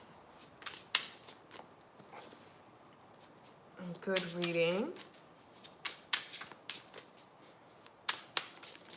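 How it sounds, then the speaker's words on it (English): Philly Tarot Deck cards being shuffled by hand, with a series of crisp riffling bursts and soft slaps near the mic, interrupted by a brief spoken remark. "So let me go ahead and mix these cards up."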